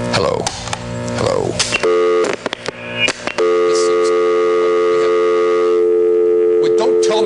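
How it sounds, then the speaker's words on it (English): A telephone handset emits a steady, unbroken dial tone that holds to the end after a few seconds of clattering handling noise and voice sounds at the start. "Wait, don't tell me the phone doesn't work when I can hear a dial tone."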